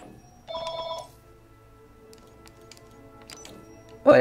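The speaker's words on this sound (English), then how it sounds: "There's another phone call." A telephone rings in one short burst of electronic tones over a low background hum, followed by near silence and a loud sound at the very end.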